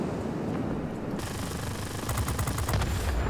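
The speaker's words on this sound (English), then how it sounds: "machine guns here are actually hitting." An F-86A in World of Warplanes fires its machine guns, a rapid rattling burst of gunfire that kicks in partway through over a continuous engine roar, fairly loud with no voices.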